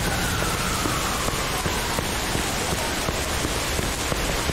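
Steady rain falls in the Mafia 2 video game, a dense, even hiss that stays constant and fairly loud throughout, with no voices over it.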